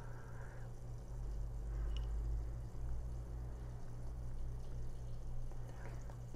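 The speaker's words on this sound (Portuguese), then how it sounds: "deixa eu beber mais água aqui, pessoal." Water is poured into a glass close by in a quiet indoor room, a short gurgling stream at the start, then a low steady background hum.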